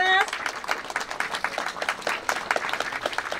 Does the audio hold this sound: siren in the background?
no